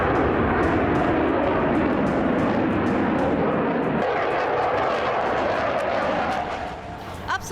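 A Rafale fighter jet roars past at close range, a loud, broad whooshing engine rumble with a pitch shift midway that fades toward the end.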